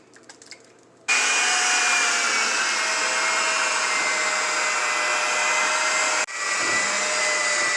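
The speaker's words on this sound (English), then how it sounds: "It's called a hand mixer." An electric hand mixer whirs steadily while beating cupcake batter of cake mix, water, butter and egg in a bowl, loud and close, starting after a second of quiet and dipping briefly near the end.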